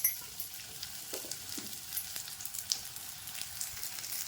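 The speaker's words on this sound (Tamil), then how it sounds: "இப்போது இதில் நான் கட் பண்ணி வச்சுருக்கிற பாவக்காயை போடுறேன்." Sliced bitter gourd fries in hot gingelly oil, a steady close crackling sizzle with bright spattering pops throughout and a few soft stirring knocks, no talking.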